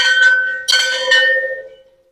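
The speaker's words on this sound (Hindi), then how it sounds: "घंटी बजाते हुए देखिए" A metal temple bell at a Shiva shrine is struck twice in succession, ringing loud and close with a bright clang that sustains and fades out over about two seconds.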